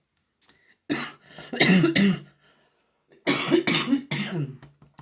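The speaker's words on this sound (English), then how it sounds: "This cough will not go away." Two separate bursts of harsh, throaty coughing close to the microphone, each a rapid cluster of several coughs with a short silence between them.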